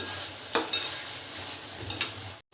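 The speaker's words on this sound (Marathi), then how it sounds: "गाजर बारीक करून बारीक तुकडे केले ते पण छानपैकी तेलामध्ये फ्राय करून घ्यायचे आहेत" Finely chopped carrots and green chilies fry in oil with a brisk sizzle, interrupted by two quick spoon stirs before the sound cuts off abruptly.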